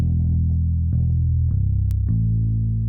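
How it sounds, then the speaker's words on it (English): Deep, heavy bass guitar notes sustain and change pitch about every half second, each with a short attack, steady and prominent. "You you compare that with the regular bass, it sounds like this."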